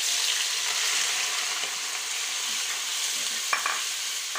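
Onion frying in oil with cumin seeds for bharwa tinda, a loud continuous hiss of sizzling with a couple of brief stirring taps near the end.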